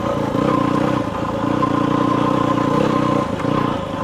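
A Yamaha WR250F dirt bike engine drones steadily while riding across high desert terrain, its low buzzing note close and continuous with light clattering over the top.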